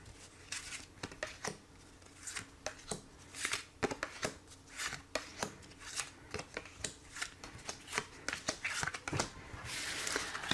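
A tarot deck is shuffled by hand for a reading in a series of soft, papery riffles and slaps that repeat at a fairly even pace. The sound is close and quiet, with no talking.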